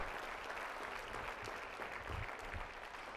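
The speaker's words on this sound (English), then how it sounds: "Give yourselves a round of applause." Audience at a university convocation claps in a brief, fairly faint round of applause, steady crowd clapping heard from a distance in a large space.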